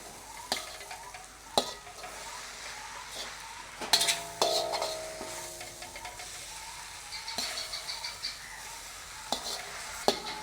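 Vegetables with spices being stirred in a pan for vegetable rice: quiet, close scrapes and occasional clinks of a utensil against the metal over a faint sizzle, irregular and unhurried.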